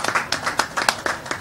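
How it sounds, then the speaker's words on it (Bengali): A short burst of audience clapping for Russell Mahmud at an entertainment event, a thin scattering of separate hand claps in an uneven rhythm, moderately close and fairly light. "সবাই রাসেল ভাইয়ের জন্য একটা জোরে হাততালি।"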